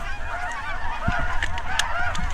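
A flock of snow geese honks continuously, many overlapping calls blending into a loud, steady clamor that sounds fairly close.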